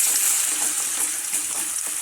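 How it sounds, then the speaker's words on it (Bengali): Potatoes drop into hot mustard oil left from frying fish, tempered with dried red chillies and cumin, giving a close, continuous bright sizzle with faint crackles throughout. "এইবার এর মধ্যে দিয়ে দেব সামান্য একটু আলু"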